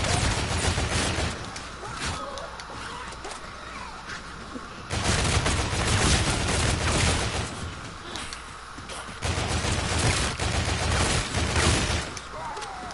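Volk Retro rapid fire in Zombies in Spaceland comes in sustained loud bursts with brief lulls, dense and continuous across the stretch, with no voice over it.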